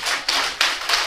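Parents in an audience clapping at a Padapuja ceremony, heard as four sharp claps spaced about a third of a second apart, close and fairly loud with no talking.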